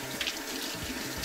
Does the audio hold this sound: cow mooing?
no